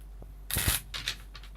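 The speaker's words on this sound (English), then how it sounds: "one more shuffle" A brief riffle of tarot cards being shuffled, a quick papery flutter lasting under a second, close and quiet.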